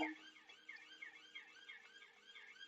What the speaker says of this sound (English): And he turns his sirens off.